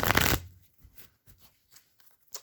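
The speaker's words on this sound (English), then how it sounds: "I'm going to stop shuffling that." A deck of tarot cards is riffle-shuffled in one loud, close burst, followed by soft scattered taps and shuffles of cards being handled.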